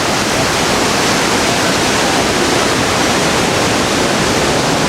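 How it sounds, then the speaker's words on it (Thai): Niagara Falls roars as a massive volume of water pours down, a loud, unbroken broadband rush that stays steady from start to finish with no voices. "ดูปริมาณน้ำที่ไหลลงมา"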